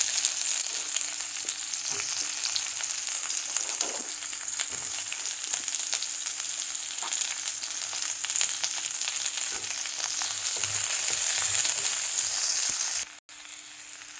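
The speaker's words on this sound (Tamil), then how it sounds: "இப்போ பூண்டும் இஞ்சியும் கொஞ்சம் வதங்கின பிறகு வெங்காயம் போட்டு வதக்கலாம்." Onion sautéing with garlic and ginger in a hot pan for palak paneer masala, a steady, bright sizzle and frying hiss with occasional stirring scrapes, close and continuous, no talking.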